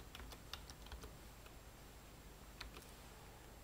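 Arduino code typed on a computer keyboard: quiet, quick key clicks in short bursts, a cluster early and another near the end, with a faint steady background hiss.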